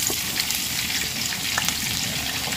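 Garlic and onion sizzle steadily in a hot pan, a dense continuous frying hiss close up with faint stirring scrapes, no voices.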